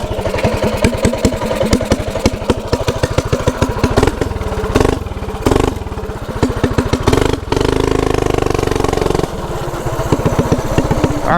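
A mini bike engine idles nearby with a fast, steady putter, its raised idle broken by a couple of short dips and surges midway before the even chugging returns.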